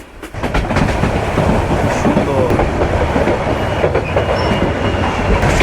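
The Burimari Express rolls steadily along the rails from Dhaka toward Patgram, a continuous loud rumble with rhythmic clickety-clack of the wheels, heard from on board with faint talk in the background.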